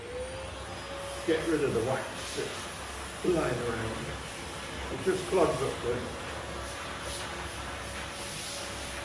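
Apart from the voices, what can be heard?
vacuum cleaner sucking up wax residue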